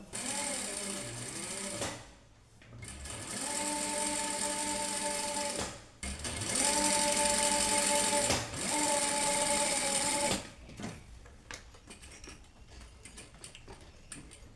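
Sewing machine stitching the lining of a patchwork bag made from scrap fabric, running in several loud bursts of steady whirring with short pauses between them, then stopping near the end as a voice speaks quietly.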